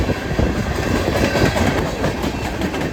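A freight train hauling empty lumber cars rolls past on BNSF tracks, loud and close, with a continuous rumbling roar and busy clatter of wheels over rail joints, no voices.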